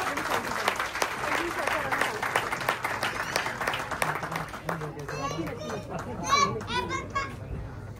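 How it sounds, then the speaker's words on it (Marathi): Audience applause at a Marathi movie poster launch event: a crowd clapping steadily and densely, with children's voices and chatter mixed in, the clapping thinning toward the end as voices come forward. "टाळ्या वाजवा."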